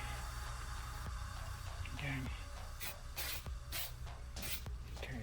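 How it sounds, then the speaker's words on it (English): Several short hissing bursts of maintenance spray from an aerosol can, sprayed lightly in quick succession onto a Pipercross air filter against a steady background hum. "Very light spray."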